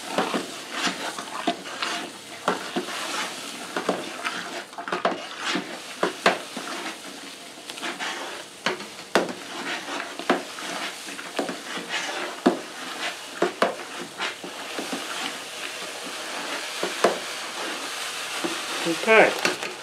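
Corn mash for a wheated bourbon cooking in a pot while being stirred, a steady bubbling sizzle broken by repeated scraping strokes and occasional clinks of the spoon against the pot, with no talk.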